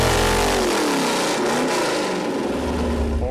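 A 351 small-block Ford V8 roars loud and close as it loads up on a dyno, its pitch dipping and then climbing again as it revs under load, with no talk.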